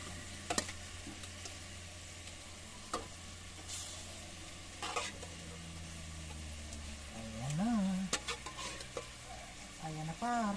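Pork sizzles in a frying pan with a steady hiss and crackle. Occasional scrapes and stirs clatter close by, and faint voices and background noise sit underneath.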